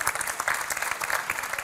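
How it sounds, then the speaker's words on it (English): Audience at a main-stage conference wrap-up clapping for challenge winners, a dense, steady round of applause from a crowd, moderately loud throughout the short burst. "you can give them a round of applause if they make their way"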